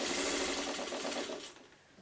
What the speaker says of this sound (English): So I'm going to sew it with the seams showing